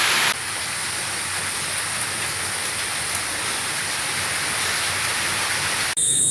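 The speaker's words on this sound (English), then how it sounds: "and now it's drizzling" Light drizzle falls steadily outdoors on a cloudy day, a continuous, even hiss of fine rain that stays constant throughout before a brief break near the end.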